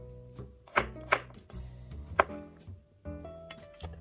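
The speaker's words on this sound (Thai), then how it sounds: "peel onions and garlics cut into squares" Shallots and garlic being diced into small squares with a knife on a cutting board while preparing Thai massaman curry paste; a few sharp, close chopping strikes at an uneven pace, with no talking.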